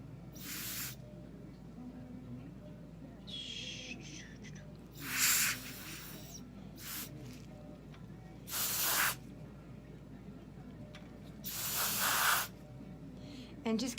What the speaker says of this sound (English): Just keep adding a drop of paint and spraying it out.